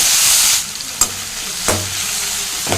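Chopped tomatoes, green chili and ginger sizzle steadily in a hot pan while cooking for cauliflower gravy, a loud close hiss broken by a few sharp spatula scrapes and taps.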